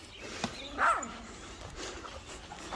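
A dog on an Australian farm gives a couple of brief, faint barks or yelps at a distance over steady outdoor background noise, with no talking.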